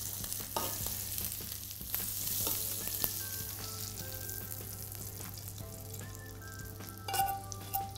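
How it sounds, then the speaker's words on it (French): A rack of lamb sears in a hot pan with butter and orange peel, giving a steady, close sizzle and crackle throughout with faint scraping stirs and no talk. "On fait bien saisir la viande."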